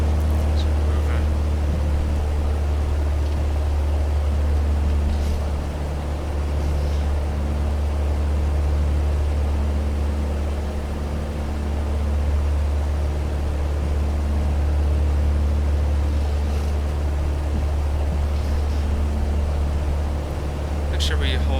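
A Piper Cherokee 180 engine in the A2A flight simulator drones at steady high throttle while taxiing uphill, a constant low rumble that fills the whole stretch without letting up.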